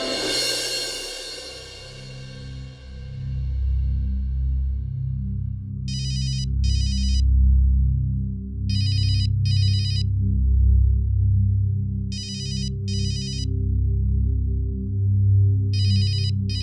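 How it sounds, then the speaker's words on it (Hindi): A mobile phone ringtone repeats in short paired bursts about every three seconds, clear and fairly close, over a low steady background hum with no talking. "सिमी तेरा फोन आ रहा है"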